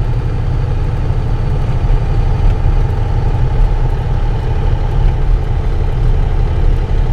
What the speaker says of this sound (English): just to show you the difference in the road noise